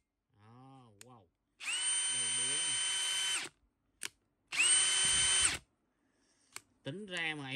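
Bosch GSB18V-150C cordless hammer drill revving in two sustained high-pitched whirring bursts, close and loud, with someone speaking between and around the runs.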